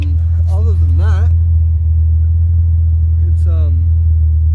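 A Holden VL Commodore engine runs just after its first startup, with no proper exhaust fitted yet, a steady, loud, low idling rumble throughout while someone talks over it.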